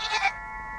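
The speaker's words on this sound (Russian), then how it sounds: "Это моя коза." A goat from a 1966 Soviet fairy-tale film gives one short, close bleat that fades within a fraction of a second, leaving quiet room tone.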